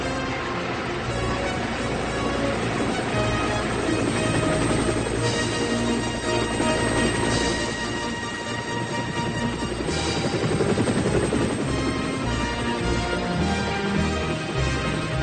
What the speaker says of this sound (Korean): 헤럴드는 토마스를 세울 검사관을 태운 뒤 하늘로 떠올랐어요